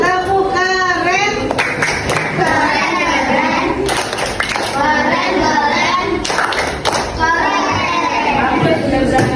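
A class of children in a classroom claps out a rhythmic cheer, bursts of sharp patterned hand claps mixed with their chanting voices, loud and close throughout.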